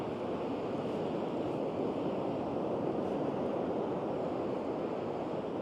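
Sea waves break over a sandbar on the southwest Norwegian coast, a steady broad rushing wash with some wind noise, continuous and fairly close, no talking.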